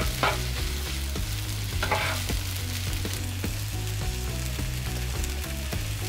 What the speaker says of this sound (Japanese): ご飯を崩して。 混ぜ混ぜ。